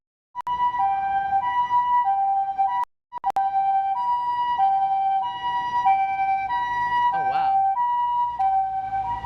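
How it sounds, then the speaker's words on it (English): Ambulance sirens wail loudly and steadily as they pass along a street, with a brief cutout partway through and a warbling tone near the end. "Leo likes the ambulances that are going by."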